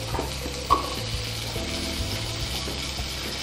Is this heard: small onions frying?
yes